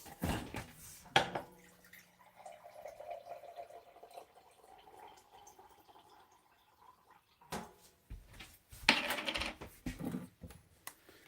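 Water being fetched, with drips and a pour into a container alongside coin-like clinks and handling knocks, moderately close, and a steady faint stream running through the middle stretch.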